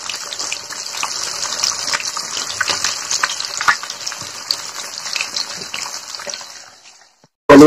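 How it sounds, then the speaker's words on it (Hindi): Fish frying in a pan for a home lunch, a steady loud sizzle and hiss that runs continuously for several seconds, then fades out before a sudden loud knock at the end. "अभी फ्राई करना भी जारी है, फ्राई करने के बाद सब्जी बनाएगा।"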